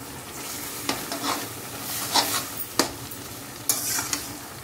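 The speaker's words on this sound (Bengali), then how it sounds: "এবার একটু নাড়িয়ে দিয়ে তারপর ঢাকা দিয়ে রেখে দেবে তাই তো?" Food is stirred in a sizzling pot while cooking at home, with scattered scrapes and clinks of the spoon over a steady frying hiss, close and moderately quiet.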